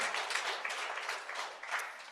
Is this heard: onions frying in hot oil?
no